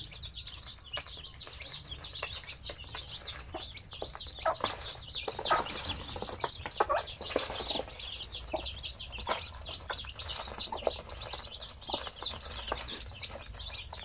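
A brood of many chicks from a Zampen hen chirping continuously in high, rapid peeps, with occasional soft flutters and clucks nearby, no talk.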